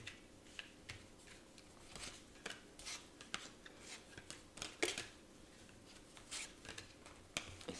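A tarot card deck is shuffled and handled close by, giving quiet, scattered papery clicks and soft riffling snaps in an irregular rhythm, with no talking.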